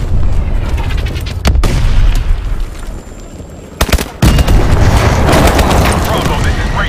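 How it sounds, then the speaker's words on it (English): Heavy pressure explosions boom and blast in a dense, loud Call of Duty: Advanced Warfare soundscape, with sharp bursts around the middle and a constant rumbling din of combat. "Pressure explosions. This place is going up."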